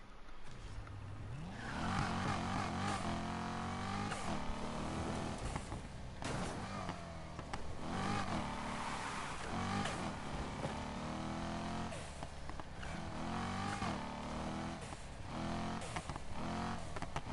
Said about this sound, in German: Das Auto macht so komische Geräusche, wenn ich das Gas loslade.